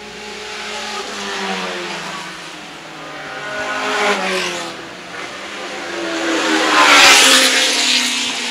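Vintage sports racing car lapping a track at a vintage grand prix, its engine note rising and falling as it passes, swelling loud up close then fading, with no talk.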